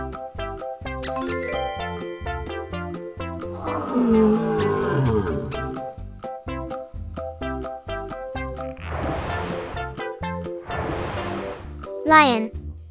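A lion's roar rises loud and rumbling in the middle, set within a playful children's learning track with chiming, tinkling music and quick sound effects throughout, with no talking.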